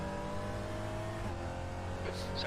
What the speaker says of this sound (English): probably the sound of the cars in this